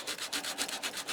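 A piece of sandpaper scrubs a rubber roof patch in quick back-and-forth strokes, about ten rapid rasping passes in just over a second, close and fairly quiet with no speech.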